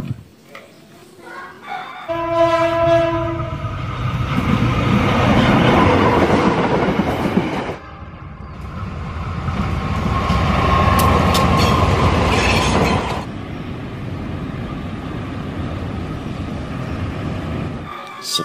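Toy Thomas the Tank Engine train runs along its track with a steady, close rattling rumble, stopping briefly and restarting, while a voice talks over the start.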